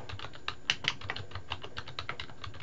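Steady run of keystrokes on a computer keyboard while entering a header in a word processor, even and close over a low background hum, no speech.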